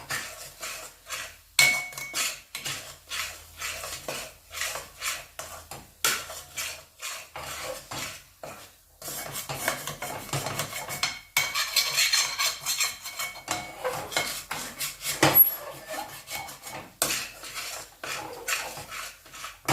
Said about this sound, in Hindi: अभी 5 मिनट तक इसको और ऐसे ही चलाते रहेंगे, वरना कढ़ाई गर्म है, नीचे जल जाएगा।